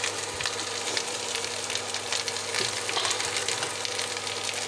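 Potato filling for aloo paratha sizzling in a hot pan while being stirred, a steady close frying crackle with small scraping bursts, no talking.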